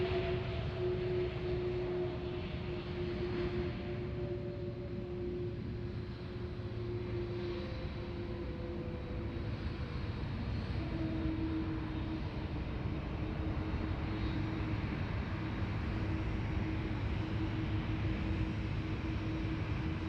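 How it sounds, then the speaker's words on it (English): Qantas 82, an airliner arriving from Singapore, comes in at Sydney Airport. A steady, distant jet roar with faint droning tones fills the whole stretch, and no voices are heard. "It's our Qantas 82 that's coming in from Singapore."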